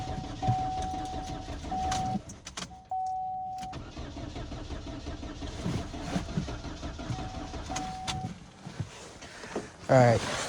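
A car engine cranks repeatedly without catching, in several grinding starter bursts separated by brief gaps, close by, with a voice speaking over parts of it.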